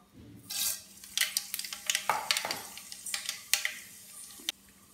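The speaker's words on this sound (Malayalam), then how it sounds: "കടുക് പൊട്ടി" Mustard seeds crackle and pop in hot sunflower oil, a burst of sharp, irregular spluttering pops, loud and close, settling into a steady sizzle.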